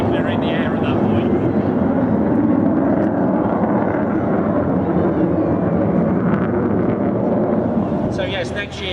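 Avro Vulcan XH558 bomber with Rolls-Royce Olympus engines turning at an airshow, a loud sustained broadband roar that holds steady throughout and fades slightly at the end.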